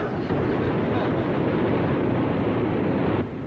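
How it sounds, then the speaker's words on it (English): A car engine roars steadily at high revs for a few seconds, a loud, continuous rumble that holds level and then drops slightly near the end, as if the wheels are spinning in mud without grip. "the wheels must be spinning in the mud"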